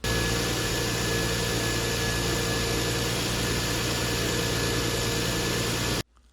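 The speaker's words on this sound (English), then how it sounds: "make sure that the idle is smooth and there aren't any weird noises coming from the engine bay" A Lexus GS 300 with the 2JZ-GE engine idles steadily and close by, a continuous low hum with a faint whine running evenly for about six seconds before cutting off abruptly.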